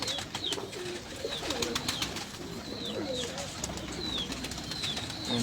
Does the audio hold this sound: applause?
no